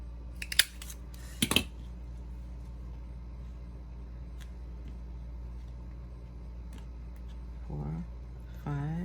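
Scissors cutting small paper pieces for a handmade mini album: two or three quick, crisp snips up close at the start, then a quiet stretch with a low steady hum and a brief voice near the end.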